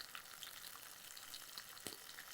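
Tomatoes and garlic sauté in a pan with a faint, continuous sizzle and scattered soft pops, plus one brief knock near the end.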